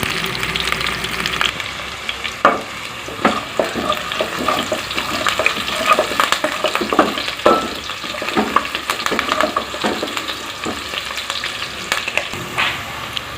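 Green chilies and onions frying in oil in a pot while being stirred: a loud, continuous sizzle broken by frequent stirring clinks and scrapes, with no talking.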